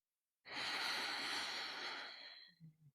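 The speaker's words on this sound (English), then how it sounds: "breathing back out again" One long, deep breath is pushed out through the nose, a close and steady hiss that fades over about two seconds, then gives way to a short soft hum.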